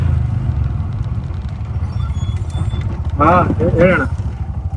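A vehicle engine rumbles steadily and close, low and continuous, while someone speaks briefly over it.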